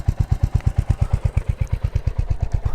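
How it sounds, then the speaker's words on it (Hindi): A Royal Enfield Hunter 350 motorcycle idles in neutral close by, its single-cylinder engine thumping in a fast, even, steady beat of loud low pulses with no voices over it. "ये आइडल पे आवाज़ है इसकी"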